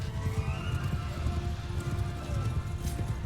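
Horses galloping across a battlefield in Mount & Blade II: Bannerlord, a continuous rumble of overlapping hoofbeats with faint higher tones above, moderately loud and without speech.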